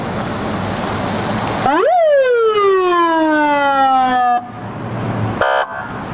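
A police siren loudspeaker (SGU) on a car lets out one short wailing blip that rises sharply, sustains a loud falling tone for a couple of seconds and cuts off, followed by a brief electronic chirp, against outdoor background noise.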